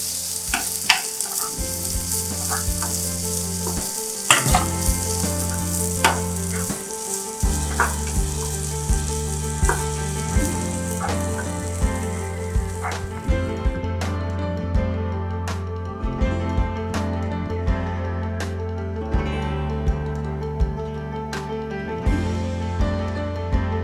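Beans go into a pan of cooked onions and fry in a continuous close sizzle, punctuated by frequent clinks and scrapes of a utensil stirring. No voices are heard.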